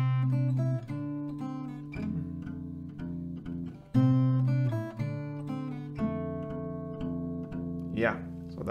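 An acoustic guitar plays a plucked verse melody in a lesson, with clear single notes and sustained tones ringing over lower strings in a moderate rhythm. It is close and fairly quiet.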